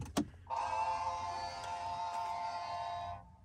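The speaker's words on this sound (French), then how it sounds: "Alors là, vous avez eu un bruit de guitare électrique." After a short click, the Abarth 500e electric car's artificial startup sound swells in and holds for about three seconds, a buzzy, guitar-like electronic hum, then cuts off cleanly.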